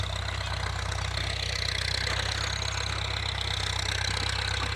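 A Ford 6600 tractor engine running at a steady idle, a continuous low rumbling drone with constant loudness throughout and no voices.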